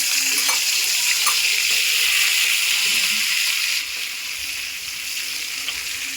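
Prawns frying in hot oil in a wok for a Bengali kochu data dish, giving a steady broadband sizzle with a few soft clicks, loud and close, softening slightly toward the end with no talk.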